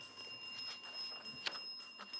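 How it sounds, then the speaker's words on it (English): Bell marking the end of a junior schools quiz match on television, a bright sustained ringing tone over faint room noise, with no talk. "that bell signifies the end of the match"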